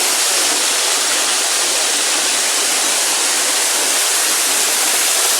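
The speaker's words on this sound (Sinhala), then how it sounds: "මෙන්න මෙහෙම අපිට දිය ඇල්ලෙන් වතුර වැටෙනවා බලන්න පුළුවන්" A small waterfall at Miris Ella pours steadily onto rocks, a loud, continuous broadband rush of falling water heard up close with no break and no voices.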